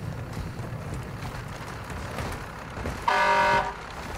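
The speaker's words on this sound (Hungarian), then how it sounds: "Ezt a dudálgatást meg aztán." A car horn honks in a Call of Duty battle royale match, one short steady blast of about half a second standing out over a rumbling engine and background game noise.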